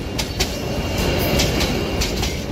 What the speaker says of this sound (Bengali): ট্রেনটা আবার হুইসেল বাজিয়ে ধীরে ধীরে চলতে শুরু করল